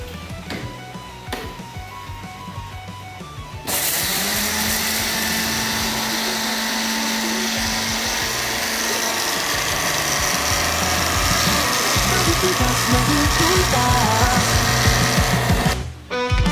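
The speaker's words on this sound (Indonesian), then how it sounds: "Setelah bijinya kita sangrai, lalu kita blender hingga" A blender grinds roasted papaya seeds into powder, a loud steady whirring motor that runs continuously for many seconds before cutting off.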